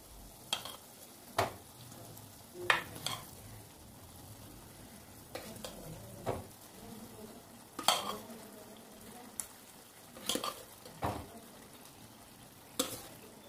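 Cooked dal and rice being mixed into fried onion-tomato masala for dal khichdi: a low bubbling sizzle under about a dozen sharp spoon scrapes and clanks against the pot, spaced irregularly, close but fairly quiet.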